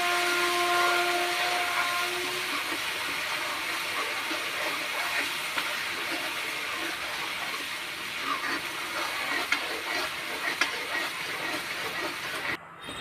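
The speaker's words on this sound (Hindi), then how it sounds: "इसको भी डाल देते हैं और इसे भी भूनेंगे।" Steady sizzling hiss of ground onion paste frying in a hot pan for aloo matar, continuous and fairly close, with faint scraping, no voices.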